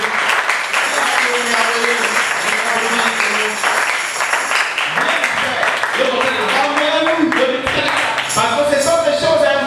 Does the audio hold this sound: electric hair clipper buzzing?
no